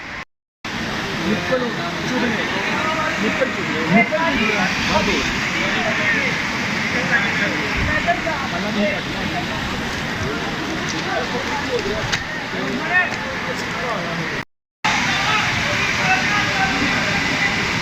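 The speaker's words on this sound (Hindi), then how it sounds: "क्या ये है जी नूरी वाटरफॉल।" Noori waterfall in KPK roars as a steady, loud rush of falling water, with people talking over it.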